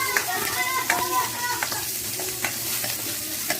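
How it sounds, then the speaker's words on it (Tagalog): Onions and spices sautéing in a pan for a Filipino fried-fish soup, with a steady sizzle under repeated stirring and a few sharp utensil clinks against the pan, close and fairly loud. "Gigisa mo natin yung mga spices."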